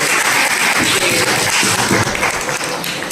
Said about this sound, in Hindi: खूब जोर से हम लोग ताली बजाएं अपने लिए और आपके लिए